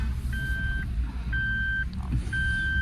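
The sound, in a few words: car seat belt warning beeping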